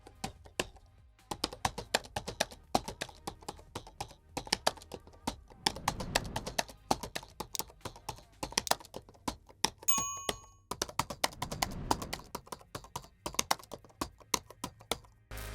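Typing on the keyboard of an M1 MacBook Pro 16-inch laptop: quick, irregular runs of soft, close key clicks with short pauses between bursts, plus a brief electronic chime partway through.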